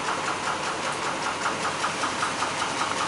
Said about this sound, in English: I'm just letting it idle, letting the oil that got on the exhaust burn off nice and slowly.